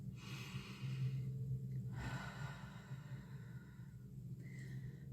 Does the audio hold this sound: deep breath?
yes